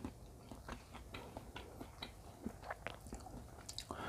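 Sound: eating bamboo shoot soup with herbs

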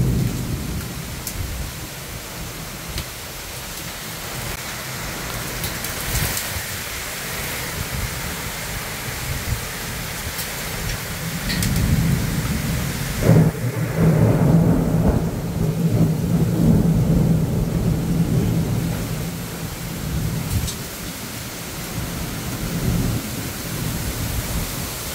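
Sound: heavy rain with hail and thunder

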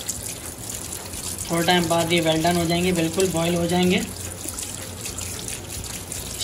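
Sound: tap water running over strained boiled potatoes

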